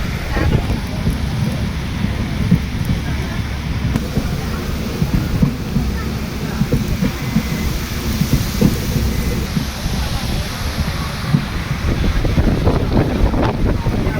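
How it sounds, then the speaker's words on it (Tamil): Heavy rain with possible thunder during a monsoon train journey through Kerala toward Thenmala, a loud continuous roar of rainfall and wind rushing past the moving train, with deep low rumbling underneath. "மழையை பாருங்கள்."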